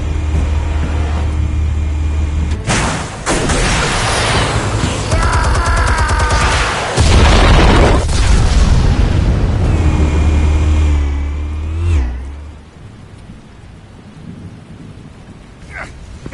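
Heavy rumbling detonations in The Batman Telltale Series roll through a loud, sustained burst of booming blasts and debris, then fade into a quieter, crackling tail.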